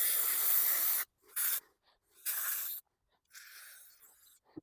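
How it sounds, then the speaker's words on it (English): Short bursts of carb cleaner spray hiss into the carburetor bowl of a 30-year-old Honda XR250L dual-sport motorcycle. There are four close, loud blasts of varying length with silent gaps between them and no talking. "we need to spray some of this out with some carb cleaner,"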